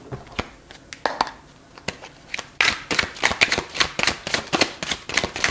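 Tarot cards are shuffled by hand close to the microphone in quick crisp riffling bursts and slaps, sparse at first and then coming in a rapid rhythmic run.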